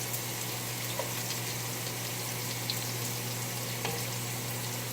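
ElMonterey chimichangas browning in a pan, giving a steady, close sizzle of hot oil with small pops, running evenly without talk.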